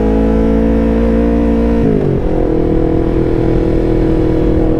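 A 2019 Kawasaki Ninja 650 with a flashed, tuned ECU pulls away on a test ride, its engine droning loud and close, dipping briefly at a gear change before pulling steadily on, with no one talking.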